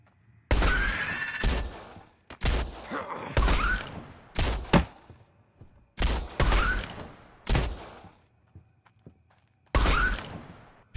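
Gunfire in the video game Blood West: loud, close shots come one at a time or in short pairs with pauses between, some followed by a rising whine-like cry.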